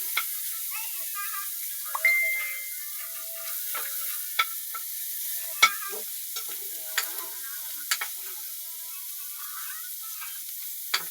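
Ginger and onion frying in a little oil, a soft, thin sizzle with scattered sharp ticks and occasional spatula taps, fairly faint and close, without talk.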